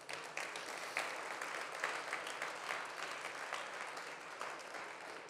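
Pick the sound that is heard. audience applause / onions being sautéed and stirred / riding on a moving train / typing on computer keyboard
audience applause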